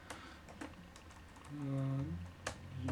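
Light keystrokes on a computer keyboard while a project name is typed, scattered taps spread over a few seconds and fairly faint against a steady background hum, with no voices.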